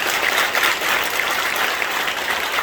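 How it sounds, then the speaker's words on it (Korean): A church congregation at an ordination service claps to bless newly installed elders as they bow, producing a thick, continuous wash of applause at even loudness throughout. "인사하실 때 큰 박수로 축복하도록 하겠습니다."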